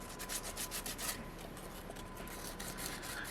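Sandpaper rubs over a hand-carved soapstone seal in steady rasping strokes, close and moderately loud, with quick back-and-forth scrubbing at first and then slower, smoother passes.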